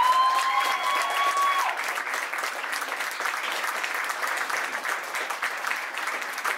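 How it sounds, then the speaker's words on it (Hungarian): An audience at an awards closing party claps in sustained, dense applause, a brief whistle or tone fading out early, the clapping continuing evenly to the end. "kérek egy nagyon nagy tapsot"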